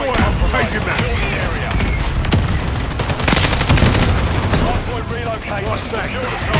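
Dense, overlapping gunfire from a Call of Duty match, with continuous rattling shots and bursts mixed with game voice callouts and background noise.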